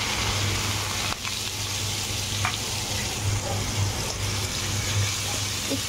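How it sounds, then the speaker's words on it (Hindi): Finely chopped onions fry over high heat in hot oil with asafoetida, cumin and bay leaf, giving a loud, steady, dense sizzle that crackles without pause, with no voices over it. "इसको हाई फ्लेम पर चलाते जाएंगे और डार्क ब्राउन होने तक सेकेंगे"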